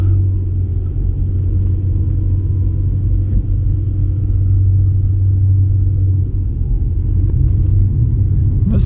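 A car engine hums in a low, steady rumble from inside the cabin as it climbs a hill in a residential neighborhood, sustained and fairly loud with no talking.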